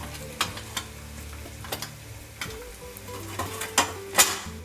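Boiled potatoes are mashed and stirred in a bowl, giving soft scraping and squelching with sharp clinks of a utensil against the bowl at an irregular pace, faint and close, with no talking.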